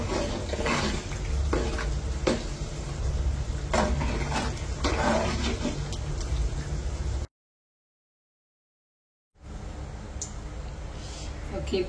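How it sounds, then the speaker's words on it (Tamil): Cooking oil bubbles and sizzles in a pan in a Jaffna home kitchen, a dense continuous crackle with stirring clicks that drops out briefly before the frying resumes. "இப்போ பார்த்தீங்கன்னு சொன்னால் எண்ணெய் கொதிச்சுட்டுது"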